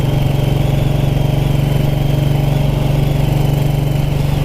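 A 1929 'Black' Ariel motorcycle with a hand gear change is ridden along country lanes at about 30 in second gear. Its engine gives a loud, close, steady rapid thumping beat with no talking.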